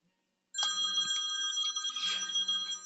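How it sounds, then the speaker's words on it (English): A cell phone rings with an electronic ringtone, starting abruptly after a moment of silence and then sounding continuously, close and fairly loud, during a webinar. "my own cell phone is ringing"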